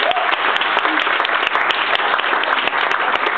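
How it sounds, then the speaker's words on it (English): Wedding guests give a loud, sustained round of applause after a speech at a reception, dense clapping filling the room steadily throughout with no voices over it. "Round of applause, please."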